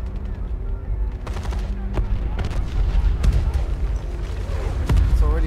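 Gunfire and explosions in the shooter video game Titanfall 2, sharp bursts of shots and booming blasts cracking repeatedly in a loud, chaotic battle.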